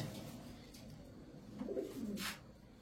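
A soft, low coo from a male pigeon rises briefly and fades, faint and fairly close against a quiet background.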